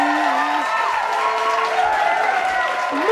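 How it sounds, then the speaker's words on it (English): A cartoon crowd cheers and applauds loudly for Mario's win, a dense, steady roar of clapping and shouting running through the whole moment, with voices mixed in. "The crowd goes wild again."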